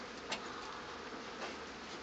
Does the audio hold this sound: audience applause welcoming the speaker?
no